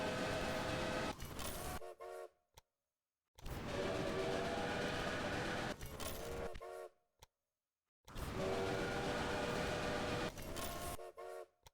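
Trains running in the video game Railway Empire, with three looping stretches of loud rolling rail rumble, each ending in short horn toots and cut off by sudden silence.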